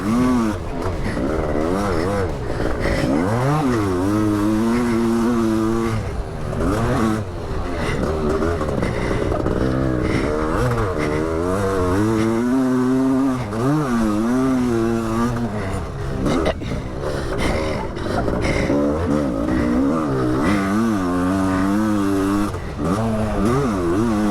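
Kawasaki KX500 two-stroke motocross bike ridden hard around a track, engine rising and falling through repeated revving sweeps and gear changes, loud and fairly close for the whole lap.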